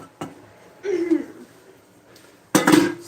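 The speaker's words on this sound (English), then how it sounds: "So I'm going to warm them up in the skillet before I pack them." Cold tortillas dropped into a skillet to warm up, heard as a few soft clattering knocks and brief scrapes of pan contact spaced across a short, otherwise quiet stretch, close and moderately loud.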